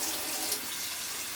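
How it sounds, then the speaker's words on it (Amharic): Hot water is poured into a pot of cooking lentils, giving a steady, close splashing rush with no break. "ከሙቅ ውሃ ጨምራለሁ። አለኝ ሙቅ ውሃ"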